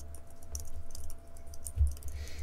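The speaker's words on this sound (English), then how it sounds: "You can hear the keyboard through the mic." Soft computer keyboard typing heard faintly through a microphone, scattered light key clicks over a low background rumble, no talking.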